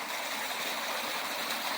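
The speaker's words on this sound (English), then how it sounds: "Little waterfall" A small waterfall on a river trail rushes in a steady, broadband wash of falling water, continuous and close, with no voices.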